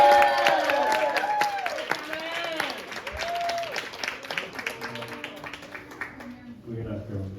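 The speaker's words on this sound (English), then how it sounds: "Can I get a round of applause for our sound man" An audience at a live set in the Tractor Tavern breaks into applause for the venue's sound man, a steady crowd clatter running beneath a talking voice and lingering guitar tones.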